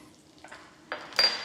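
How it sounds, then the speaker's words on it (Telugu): Quiet crackling of spices, chana dal, ginger and green chillies in hot tempering oil for upma-style idli seasoning, building to a brighter sizzle near the end, with a faint metallic scrape of a pan. "మన సింపుల్ ఉప్మా తాలింపు"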